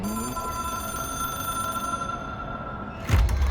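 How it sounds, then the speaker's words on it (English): A telephone in the video game Control rings with a steady, tonal electronic trill that holds for about three seconds before an abrupt thud and burst of noise cuts in. "It is a phone."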